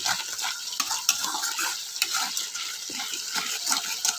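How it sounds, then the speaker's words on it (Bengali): Meat with turmeric, coriander and cumin powders sautés in a pan, stirred vigorously with repeated scraping strokes over a bright, hissing sizzle, close up and with no talking. "আবার এগুলোকে ভালো করে নাড়াচাড়া নাড়াচাড়া দিয়ে কষিয়ে নিতে হবে"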